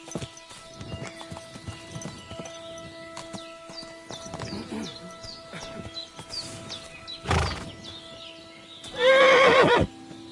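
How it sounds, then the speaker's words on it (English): A horse in Kingdom Come: Deliverance II clip-clops with light hoof thuds and snorts, then lets out a loud, shrill whinny near the end, close and clear. "I've got a horse for you here."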